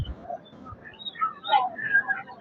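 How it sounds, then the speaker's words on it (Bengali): A pigeon at a large bird market in Narsingdi gives soft, brief cooing calls amid faint background bustle and occasional voices. "এবার এই যে একটি কবুতর আর কি।"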